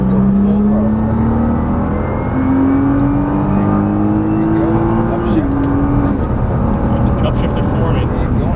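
Nissan GT-R on a racetrack pulling hard at full throttle, a loud, steady engine note climbing in pitch before a brief shift-like step, with an instructor's voice talking over it throughout.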